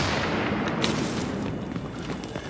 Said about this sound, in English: that must have been the thing blowing up